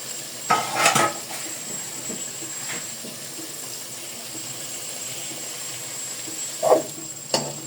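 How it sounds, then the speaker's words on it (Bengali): Beef fries with spices in a pot, heard as a low, steady hiss under a few clanks and scrapes of a metal spoon against the pot, near the start and again toward the end. "মাংসগুলোকে এ পর্যায়ে সুন্দর করে মশলার সঙ্গে কষিয়ে নিতে হবে।"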